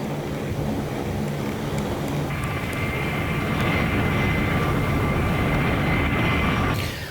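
An HH-60 Pave Hawk helicopter flies low over Iran, a loud, steady engine roar and broadband rotor rush that swells slightly midway and carries on without talk.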